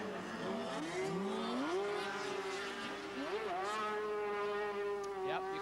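A racing sidecar outfit at Mallory Park in 1990 screams at high revs as it wheelspins out of a corner, a shrill engine note sweeping up and down through gear changes, heard at a moderate distance.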